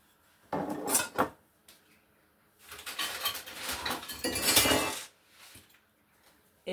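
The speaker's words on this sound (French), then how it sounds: "Et on va mélanger le tout." Sugar being stirred into cake batter in a large bowl, a utensil scraping and clinking against the sides in uneven bursts, close and moderately loud.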